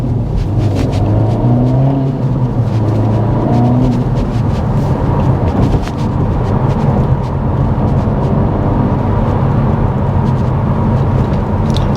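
A 2024 Acura Integra Type S drives along with a steady, loud engine and road rumble, the engine note rising and falling slightly through gear changes, heard from inside the cabin with no talking.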